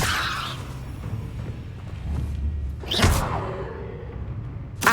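A levitation spell cast in Hogwarts Legacy: soft magical whooshes with a low rumble, then a sharp swelling swish near the middle and another quick burst at the end.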